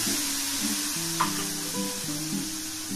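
Coconut and white seed paste sizzling and frying steadily in hot oil for a curry, a constant close crackle with a brief stir scrape midway and a low tonal hum underneath, no voices.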